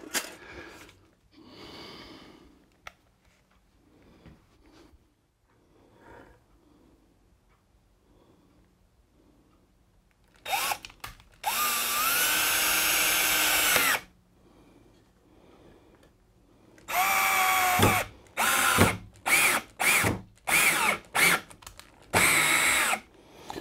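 Quiet rustling and handling, then a power drill whirs in a long run followed by several short bursts as it drives into wood.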